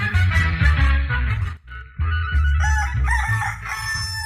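A rooster crows loudly and close by in a long, strained call with a brief break in the middle, then carries on with more harsh crowing.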